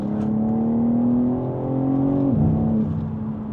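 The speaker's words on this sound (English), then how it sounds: "Let's go ahead and drop some gears. We'll put it over into manual mode, 6th gear, drop it over into about 4th." BMW M3 Competition G80 engine droning under steady acceleration with a rising harmonic tone, then a sharp downshift drop in pitch before climbing again, heard from inside the car.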